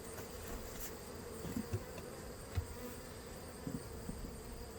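Honey bees buzz faintly and steadily with a soft, constant drone while honey boxes are pulled from the hive. A few small knocks and bumps come through close by.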